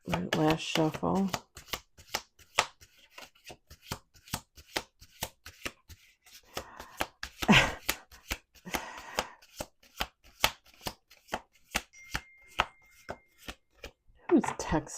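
Playing cards riffle-shuffled repeatedly in sharp, crisp bursts, with quiet gaps and brief talking between shuffles.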